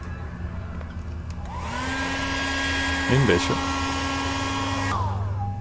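A hair dryer switches on partway through and blows with a steady high whine and rushing air, close and loud, while people talk briefly over it.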